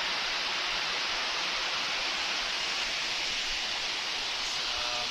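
Arbi Falls at Bale Malada pours in a constant, dense roar of rushing water, heard up close as an unbroken wash of sound with no voices.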